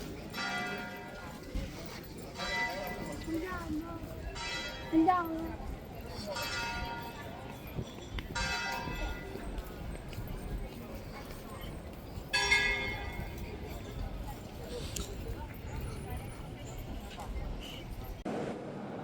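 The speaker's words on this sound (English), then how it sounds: "The bell is chiming." A cathedral bell in a Sicilian city rings in repeated strokes roughly every few seconds over busy street ambience with horse hooves clip-clopping, while people talk nearby.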